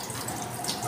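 Warm water runs steadily from a heated tap during a dog's grooming bath, a continuous close splashing stream with no voices.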